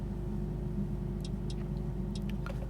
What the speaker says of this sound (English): this car is now louder